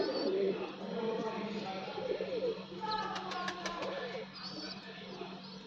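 Pigeons coo in a loft housing breeding pairs, chicks and an old black-and-red bird; soft, rolling coos repeat near the microphone while someone talks over them and a few sharp chirps break through.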